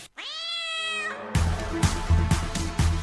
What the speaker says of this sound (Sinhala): ඇයි සමන්ති නැන්දලා පූසා ලිඳට දැම්මේ?